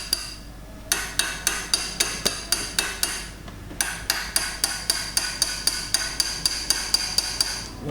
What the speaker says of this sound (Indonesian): di sini akan saya ketuk aja.